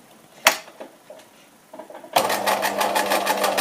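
Sewing machine stitching a mitered corner on a hem, starting after a pause with a short thump and faint handling; the motor then runs steadily and fairly close with a rapid, even needle rhythm to the end.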